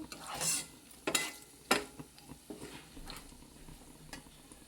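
Hot oil sizzles as a spice tempering fries for a gongura curry, with a few sharp bursts of crackling and the clatter of a spoon stirring in a metal pan.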